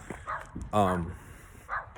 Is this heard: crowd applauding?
no